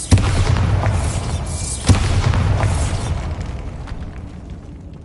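A Bombarda blasting spell detonates in Hogwarts Legacy: a sharp boom at the start, a second loud blast about two seconds later, then a rumbling, debris-filled tail that slowly fades, with no speech.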